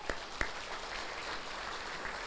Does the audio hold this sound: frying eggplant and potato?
no